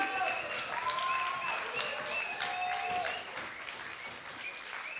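At a young talents showcase evening, the audience gives a performer a sustained round of applause that fades slightly toward the end, with voices talking over the clapping.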